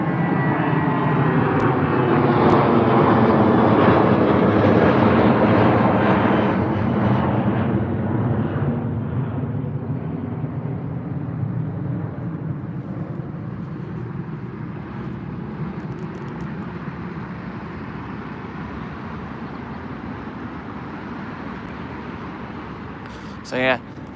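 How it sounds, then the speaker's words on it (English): A British Airways Airbus A380 taxiing at Heathrow gives a loud, broad jet roar that swells early and then slowly fades to a steadier, softer rumble. "We actually have a British Airways A380 as well that's taxiing to the runway"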